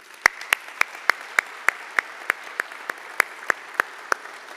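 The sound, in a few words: audience applause for alumni award honorees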